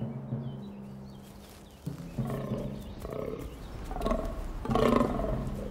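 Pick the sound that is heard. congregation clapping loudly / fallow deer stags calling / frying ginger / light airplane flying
fallow deer stags calling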